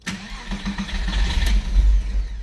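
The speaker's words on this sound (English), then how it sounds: "because I've got fuel in the car from before, the car starts" A Porsche 986 Boxster engine turns over and catches on first startup after IMS bearing replacement, settling into a low, rumbling idle that swells slightly, heard up close.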